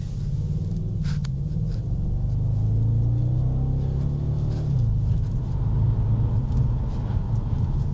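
An Audi S5 engine hums and builds in pitch as it accelerates, a low steady drone from inside the vehicle with faint clicks early on.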